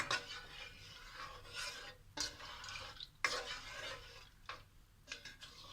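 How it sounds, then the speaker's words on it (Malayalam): Kerala beef stew with coconut milk stirred in a cooking pot: rough scraping and swishing strokes come in bursts with brief pauses, close up, and no one speaks. "എല്ലാം ഒന്ന് ഇതിലേക്കൊന്ന് മിക്സ് ചെയ്തെടുക്കുക"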